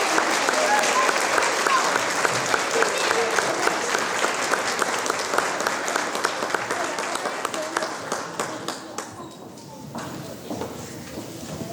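A school audience claps and cheers after an elementary school patriotic program, loud sustained applause that thins out toward the end as a voice speaks.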